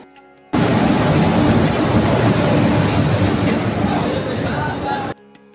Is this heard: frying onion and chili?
no